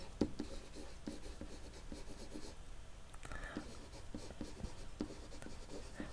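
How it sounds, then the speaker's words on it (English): Pen or pencil writing by hand on paper, a close quiet scratching in short repeated strokes with brief pauses, no talking. "I'm going to just write underneath this one"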